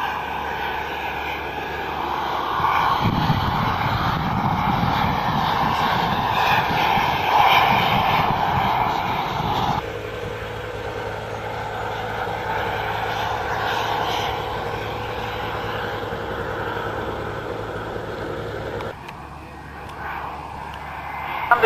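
A large radio-controlled model aeroplane with a slab-sided fuselage flies at a large-model airshow, its engine droning steadily and loudly throughout, shifting pitch as it passes overhead.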